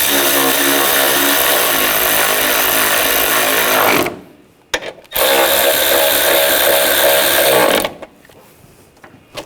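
A power tool tightens bolts on a 2000–2006 BMW X5 3.0L inline-six engine, two loud sustained whirring bursts of about four seconds each, separated by a short pause and a brief stutter.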